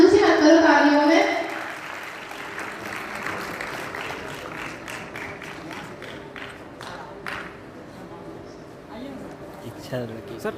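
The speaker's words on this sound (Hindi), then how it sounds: "इतनी कंजूसी मत करो तालियों में।" Audience applause at an award ceremony at a career institute in Bhopal, clapping loudest at the start then fading into scattered claps while someone speaks over a microphone.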